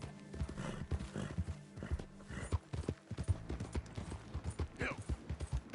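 Horse galloping in the video game Red Dead Redemption II: rapid, rhythmic hoofbeats thud steadily throughout, fairly close, with a faint whinny and brief talk over the hoof rhythm.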